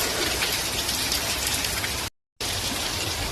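Steady heavy rain falls in a dense, continuous hiss that is loud and close, broken once by a brief moment of total silence before the downpour resumes.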